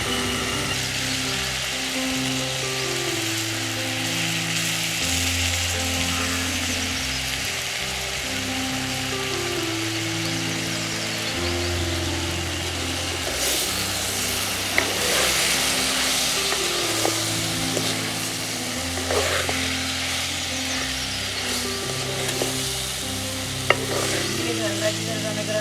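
Dried chillies, coriander, fennel, cumin and curry leaves crackle and sizzle steadily in a hot pan, with occasional stirring scrapes, while a low droning melody plays underneath throughout.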